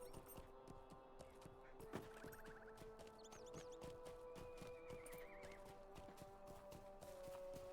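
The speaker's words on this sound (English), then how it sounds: "I heard horses, but there were no horses" In the Lord of the Rings Online video game, a horse whinnies and hooves clip-clop in a steady rhythm, quiet and distant-sounding beneath faint ambient game tones.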